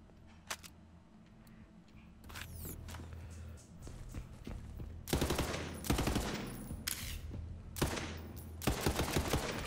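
Burst-fire shots from a gun in Borderlands 3, a few sharp volleys of quick shots with gaps between them over quiet game ambience, growing louder and more frequent toward the end.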